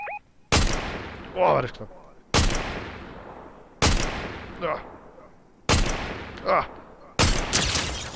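Gunfire in the video game Fortnite: five loud, sharp shots spaced evenly about every second and a half, each decaying quickly, with a player's voice reacting in between.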